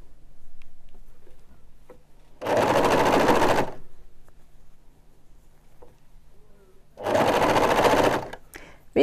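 An overlock sewing machine stitches a curved fabric seam in two steady, fast-whirring bursts of about a second each, with quiet handling of the cloth in the pauses between them.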